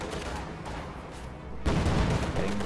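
Artillery barrage firing in a World War II strategy game, a dense rumbling roll of explosions that swells louder about halfway through and keeps booming steadily to the end.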